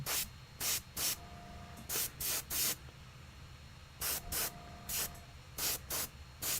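Short bursts of hissing airbrush spray at about 35 psi painting miniatures, in quick pairs and triplets, crisp and close, with quiet gaps between them.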